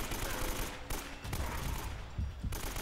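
Rapid gunfire from the video game Uncharted: Drake's Fortune rattles in dense bursts, played loud and near and filling the whole moment.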